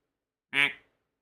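A single short, nasal quack from a duck in the video game DayZ, loud and isolated against silence.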